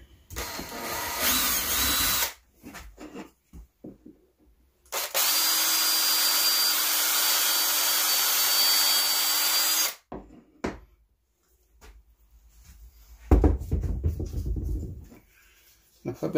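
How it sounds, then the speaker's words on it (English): A power drill whirs steadily for several seconds as it pre-drills a hole in wood while building a stool, with bursts of other tool noise and speech before and after. "Just pre-drill that hole."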